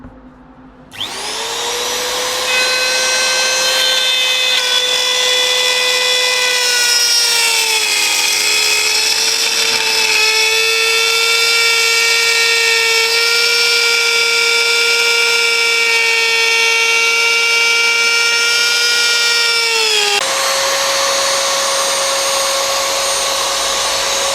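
A trimming router spins up and cuts steadily around a wooden boat window opening, a loud close whine holding a sustained high pitch for about twenty seconds, dipping slightly under load and stepping down near the end, with no talk.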